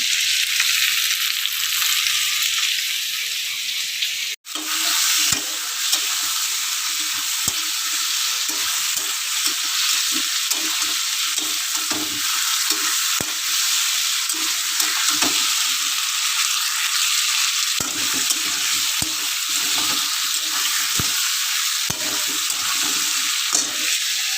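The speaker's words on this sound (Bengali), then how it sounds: "এই যে রান্না করছি এখন তরকারি কষানো চলছে" Vegetable curry sizzles in a pan as it is sautéed, a loud continuous hiss close up with frequent stirring scrapes and taps, and no talking.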